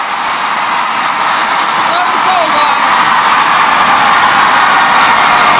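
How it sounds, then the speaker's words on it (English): A loud home crowd cheers and roars continuously at a Singapore vs Malaysia badminton match, a dense wall of voices with no break. "Singapore unable to silence this crowd, this home crowd."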